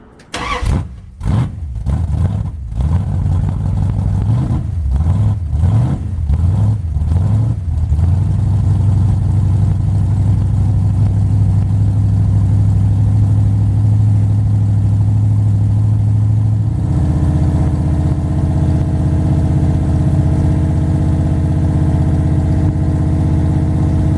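A 1980 Dodge 360 Mopar small block V8 with a rebuilt carburetor cranks through a rhythmic series of starter turns, fires up and settles into a loud, steady idle nearby, shifting slightly in tone later on.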